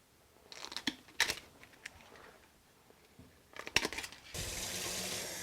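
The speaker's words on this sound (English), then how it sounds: "all we're going to do now is run cold or hot water over it and get these bowls off" Cold or hot water running over ice globe bowls outdoors after a Minnesota freeze, with scattered knocks and crunches of ice, then a steady close rush of water pouring near the end.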